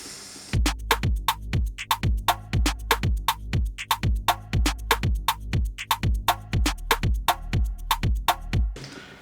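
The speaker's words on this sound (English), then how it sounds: "So all the drums and the bass together sounds like this." A drum beat with a Moog bass programmed in FL Studio for a track, punchy kicks and crisp hi-hats locked to deep sub bass notes in a steady repeating pattern, played alone.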